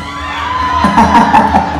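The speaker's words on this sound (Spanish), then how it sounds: "El grito de las mujeres." Women at a wedding shout and whoop together while jumping, a loud burst of rising group cheers and yells lasting under two seconds.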